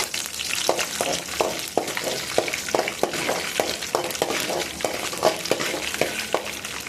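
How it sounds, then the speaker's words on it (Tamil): Chana dal sizzles loudly in hot oil with mustard seeds. A spoon scrapes the pan in an even, repeated rhythm over the steady frying, with no voices. "எடுத்து வச்சு கடலப்பருப்பு போட்டு நல்லா வதக்கி விடுங்க."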